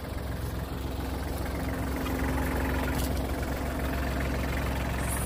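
A tractor engine idles nearby with a low, steady rumbling drone that holds constant throughout.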